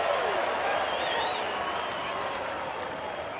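A baseball crowd in the stands at a Rockies game in Denver gives a Bronx cheer, a steady, full, continuous roar of jeering voices that fades slightly toward the end.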